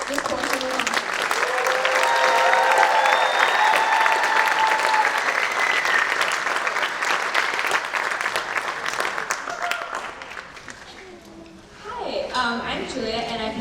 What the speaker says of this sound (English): Let's give a round of applause for Band 8 as they begin this portion of the concert.